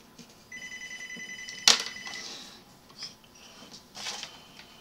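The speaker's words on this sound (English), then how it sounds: "Sorry, that's my phone." A mobile phone rings with a clear electronic tone, near and fairly loud for a couple of seconds, with a sharp handling knock as it is picked up and faint rustles after.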